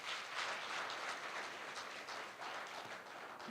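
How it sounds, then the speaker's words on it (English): An audience at a public engagement event applauds in a faint, steady wash of clapping that continues without a break. "may we please give her another round of applause?"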